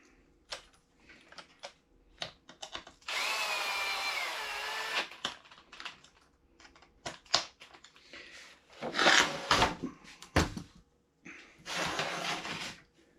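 A power screwdriver drives screws in repeated bursts, each a whirring, grinding run of a second or so, separated by pauses filled with faint handling clicks and rustle.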